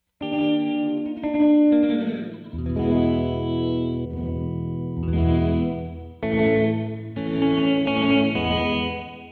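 Electric guitar chords ring through a Red Panda Context V2 reverb pedal with high and low EQ filtering, several sustained strums, each swelling into a lush, washy tail, with no talk.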